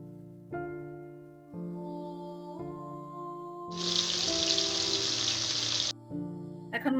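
Kalibaus fish going into hot oil in a pan: a loud, dense sizzle bursts up midway and holds for about two seconds, then eases off, over steady background tones with no talk.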